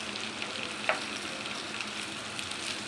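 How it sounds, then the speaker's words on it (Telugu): Potato slices fry crisp on their second side in a pan, a steady low hissing sizzle with one brief pop, and no voices. "ఇలా ఇంకొక సైడ్ మనం బాగా ఫ్రై చేసుకోవాలండి"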